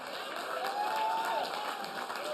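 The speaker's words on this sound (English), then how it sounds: "See, even the people didn't know when to clap." A rally crowd claps in a thin, scattered patter, sparse applause that stays low and uncertain while a voice carries over it.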